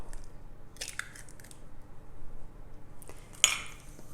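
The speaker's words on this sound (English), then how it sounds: "we're going to crack our egg in the bowl" An egg is cracked into a bowl, with a brief crunch of shell near the start and a sharper crack and tap against the bowl later, close and quiet in an otherwise still kitchen.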